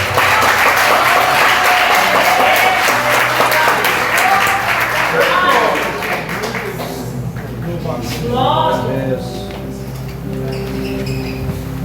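A congregation claps loudly during a Sunday evening worship service in Jardim Maraponga, Brazil. The dense clapping lasts about six seconds and then thins into scattered claps while a voice speaks over it.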